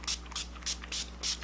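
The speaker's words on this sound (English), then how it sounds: "use your setting spray" Makeup setting spray misted onto a face, four short airy hisses at a steady pace with brief gaps between, close and fairly quiet over a faint steady hum.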